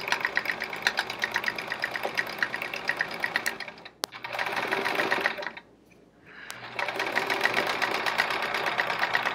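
A sewing machine stitches rapidly during free motion quilting, a fast steady whirring and clatter that pauses briefly twice before running again.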